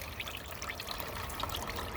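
A pump in a hydroponic strawberry grow tower made from Dollar Tree parts trickles water in a soft, steady, continuous splash, quiet and close, with no voices.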